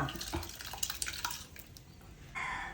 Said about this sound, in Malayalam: പരിപ്പ് വേവിച്ചത് ഇതിലേക്ക് ഒഴിക്കണം